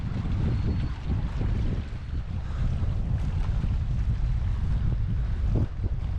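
Wind blows steadily at Loch Lee reservoir in Scotland, a loud, continuous low rumble of gusting air buffeting the microphone with no break and no voices.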